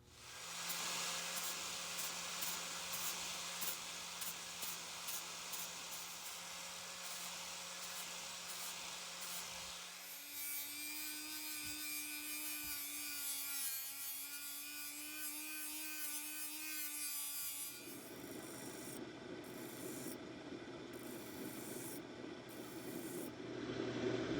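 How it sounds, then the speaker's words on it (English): Grinding and polishing a bronze block with power tools gives a steady high whine and abrasive rasp that shift in pitch across several passes, fairly quiet and continuous with no talk. "so I'll grind that off and get it polished up"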